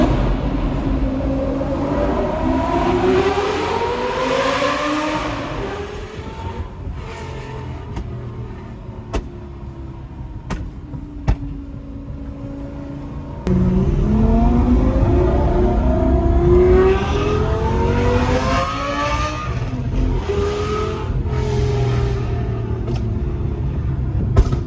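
A Lamborghini accelerates hard in first gear, its loud engine note climbing in repeated rising sweeps with sharp shift cracks and pops between pulls, close and continuous with no talking.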